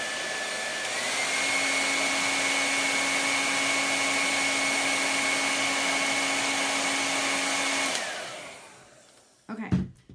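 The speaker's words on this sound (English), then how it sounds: "All right, here comes my dryer." A hair dryer blows steadily and loudly on a chalk paste craft project, with a constant whine for about eight seconds before it switches off, followed by a few faint handling clatters.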